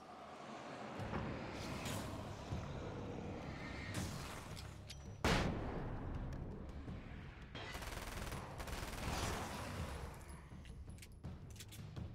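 Flashbang and gunfire in the video game Alan Wake's American Nightmare: a busy stretch of rumbling combat noise with one sharp loud burst partway through, followed by more scattered shots and bangs.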